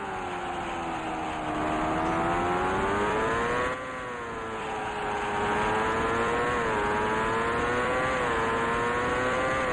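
An Indycar race car engine in the video game Indycar Racing II, on a 1989 CART Long Beach Grand Prix street circuit, holds a steady, loud, buzzing drone whose pitch dips and climbs with the laps, alone without talk.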